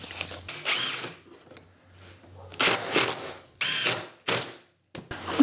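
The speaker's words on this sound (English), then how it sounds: "Just moving them out to the corners and screwing them home." Screws are driven home to fix casters with washers onto a wooden table saw cart frame, heard as several close, loud mechanical whirring bursts separated by short pauses.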